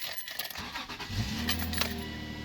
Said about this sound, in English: Now we're inside the car, and if you turn it on